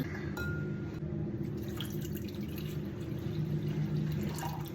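Medium-hot water pouring steadily into a bowl or glass for pizza dough, a continuous close splashing fill lasting several seconds with no talk.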